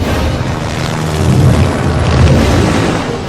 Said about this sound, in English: Coming down on a helicopter